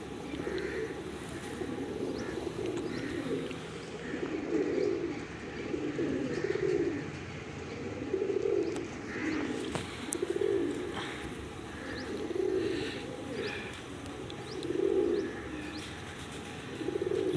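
Pigeons cooing at a rooftop loft in Pakistan, including prized Lakha Golden birds: rhythmic, throaty coo phrases repeating every couple of seconds, fairly close, with scattered chirps and light bird chatter in the background.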